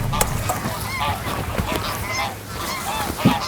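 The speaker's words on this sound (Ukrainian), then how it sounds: "зразу же трапили на такий косяк диких гусей" A flock of wild geese honking repeatedly in overlapping calls, fairly close, over steady outdoor background noise, in the Nyzhnovorsklianskyi Regional Park, Ukraine.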